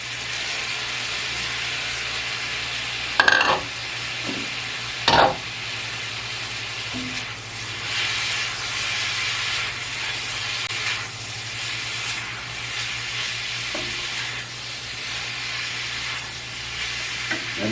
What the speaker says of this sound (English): now we're going to throw the meat back in there.